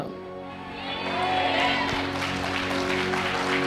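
Revival meeting congregation in Jharkhand clapping together in a dense, steady burst of applause that swells after the first second and stays loud, with voices mixed into the crowd.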